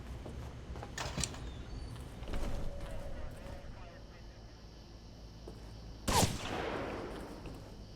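Gunshots aimed at the player in the Alpha Protocol video game, a few sharp cracks spread across the moment, the loudest burst near the end, under game ambience with a voice talking.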